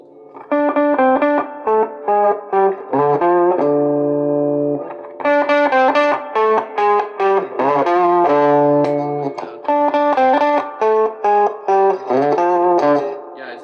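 Yamaha Revstar Professional RSP20 electric guitar with a dark, muffled pickup tone, played loud and alone in runs of short plucked notes broken by a few held chords.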